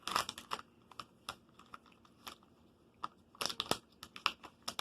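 A resealable package of birthday cake bubble gum is opened up close, giving a run of sharp plastic crinkles and crackles in bursts, with quiet gaps between handlings.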